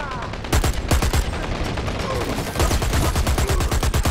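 Gunfire in the online shooter Dirty Bomb: rapid automatic bursts of sharp, loud shots, one run in the first half and another after a short pause, with a player's voice heard under them.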